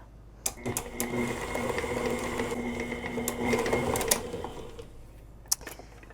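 Electric mixer beating corn cookie dough: a steady mechanical whirring hum lasting several seconds, with a few clicks and knocks at start and end, close by.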